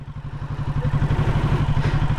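A motorcycle engine chugs nearby in fast, regular low pulses as the bike sets off, the beat staying steady and firm with no voices over it.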